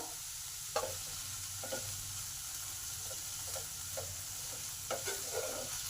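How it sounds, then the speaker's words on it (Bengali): Grated ginger and half-fried onion fry in a pan for a coriander chutney, giving a soft, steady sizzle with occasional stirring scrapes and taps throughout. "আদা আর পেঁয়াজটাকে একটু ভালো করে ভেজে নেব।"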